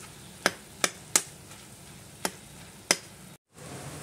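Minced mutton keema cooks with soft tomatoes in a pan over medium-low flame, a low steady sizzle punctuated by five sharp spoon taps against the pan at irregular intervals, then a brief silence.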